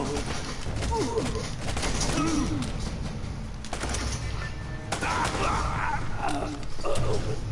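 Rapid gunfire bursts from the video game Uncharted, layered with game effects and a dense, busy backdrop while a man reacts briefly.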